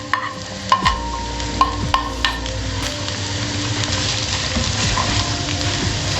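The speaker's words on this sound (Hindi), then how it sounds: "अब इसी तेल में हम गाजर भी फ्राई करेंगे जिसमें हमने शिमला मिर्च फ्राई की थी।" Carrots frying in hot oil that was just used for capsicum: a steady, loud sizzle with a few sharp clinks of a stirring utensil near the start, and no talk.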